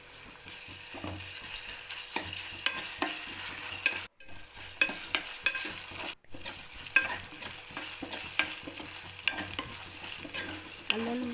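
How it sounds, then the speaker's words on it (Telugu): Ginger-garlic paste fries in oil with softened onions for a chikkudkaya curry: a soft, close sizzle broken by frequent scraping stirs of a spoon against the pan, with two very brief dropouts along the way. "అందులో అల్లం వెల్లుల్లి పేస్ట్ వేసి కొద్దిగా ఫ్రై చేయాలి"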